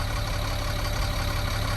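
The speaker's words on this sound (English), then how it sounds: "The engine sits right here. It's a big giant 6-cylinder." A big six-cylinder bus engine idles at around 800 to 900 RPM, giving a steady, close, low rumble with an even mechanical throb and no talking.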